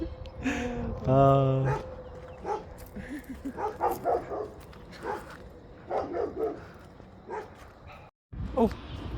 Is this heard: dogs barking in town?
yes